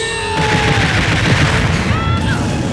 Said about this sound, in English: Kamikaze is a self-destruction spell that results in an extremely powerful explosion